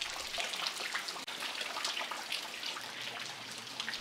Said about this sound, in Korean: 비가 옵니다.